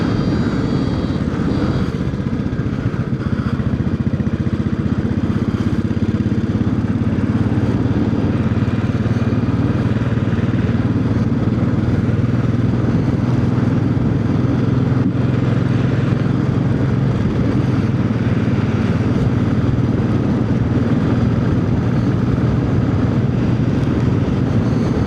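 Royal Enfield Classic 500 motorcycle climbing hills near Matlock, a steady loud engine drone with low thumping rumble and wind, sustained without break and with no talk.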